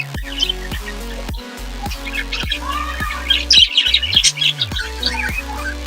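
Budgerigar chicks and their parents chirping in a steady stream of close, bright tweets and squawks, with a busier, louder flurry of calls near the middle, and no talking.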